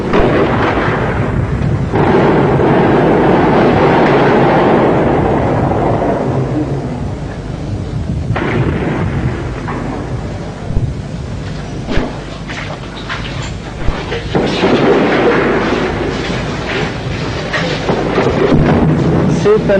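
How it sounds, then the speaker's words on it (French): A 240 mm artillery shell explodes in a deep, rumbling blast that rolls on like distant thunder, with further booms and heavy rumble under a voice-over. "C'est un obus de 240 mm, un obus qui est en train d'être utilisé pour la première fois"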